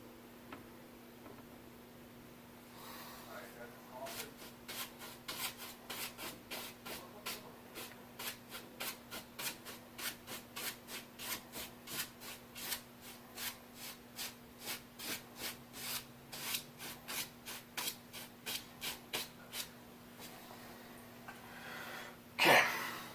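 Brush strokes scrubbing in quick crisscross passes over an oil painting canvas, a steady run of short rhythmic scratchy swishes up close, with a steady low hum underneath.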